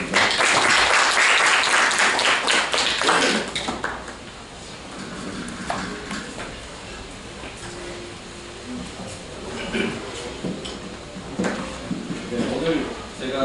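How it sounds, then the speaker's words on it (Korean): An audience at an academic lecture greets the speaker with loud, dense applause that fades after a few seconds, followed by people talking. "큰 박수로 맞아주시기 바랍니다."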